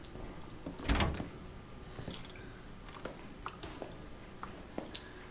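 A door creaks and bumps open near the start in the video game Resident Evil 7, followed by scattered soft clicks and taps against a quiet, hollow indoor hum.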